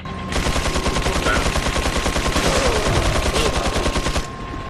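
Rapid gunfire in the video game Resident Evil 4, a loud, continuous burst of machine-gun-like shots lasting about four seconds, with no talk over it.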